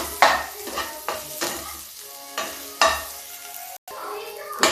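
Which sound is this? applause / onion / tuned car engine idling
onion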